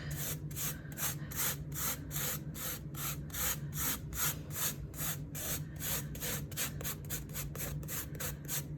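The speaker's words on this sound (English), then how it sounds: "just rub the salt off" Steady rhythmic rubbing strokes, close and moderately loud, as salt is rubbed off a dried watercolor painting of tulips, each stroke a brief scratchy swipe in an even back-and-forth pattern.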